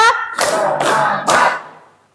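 A classroom of students claps together in a call-and-response routine: three loud, close bursts of group hand claps in quick succession, fading out at the end.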